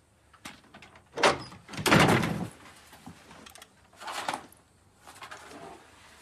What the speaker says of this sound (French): Une porte. J'ouvre.